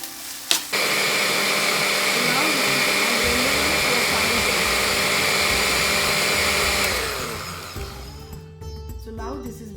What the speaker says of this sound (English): I'm going to blend it in a blender to a smooth paste.